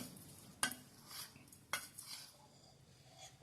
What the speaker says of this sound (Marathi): आता हे सगळं मी मिक्स करून घेणार आहे